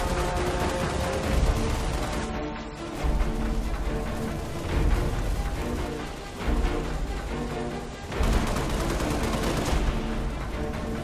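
Sustained gunfire from the Halo Reach video game rattles on in dense, loud bursts with heavy low booms swelling and easing in waves.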